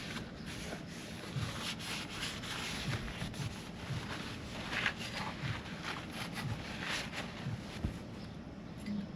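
A cloth rubs and wipes steadily along a Honda clone engine's exhaust pipe with alcohol, a close, continuous scrubbing hiss with brief strokes and no talk.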